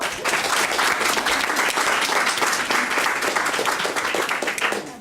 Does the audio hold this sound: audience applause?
yes